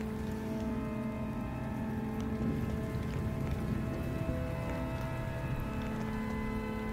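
Steady rain patter in a video game, with a constant low drone and faint tonal hum underneath, continuous and fairly quiet, no voices.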